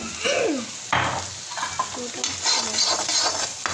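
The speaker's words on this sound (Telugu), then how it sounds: "వేసుకొని బాగా కలుపుకోవాలి." Fried rice being stirred in a hot pan after vinegar and sauce are added, with a close, lively sizzle, repeated scraping and tossing strokes, and faint bits of talk.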